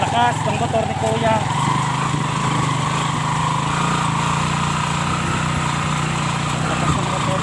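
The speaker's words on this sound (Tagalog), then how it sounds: "lakas ng motor ni Kuya" A loud motorcycle engine drones close by with a buzzy, steady roar that stays strong throughout the stretch, during a typhoon.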